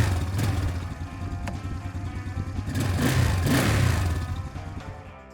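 Cheap ATV quad engine revved with the throttle, a rough, buzzing motor rising and falling in pitch over several seconds, loud and close, ending as the revs drop, with no talk.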